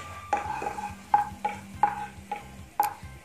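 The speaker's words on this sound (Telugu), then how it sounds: "దీంట్లో జీడిపప్పు కిస్మిస్లను వేసి లో ఫ్లేమ్లో దోరగా వేయించుకోవాలి" Cashews and raisins fry in ghee in a pan over a low flame, with a spoon stirring in five or six distinct clinking scrapes against the pan over a faint low background, no talking.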